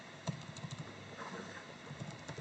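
Quiet, scattered keystrokes on a computer keyboard as trade levels are entered, light irregular clicks in a calm room.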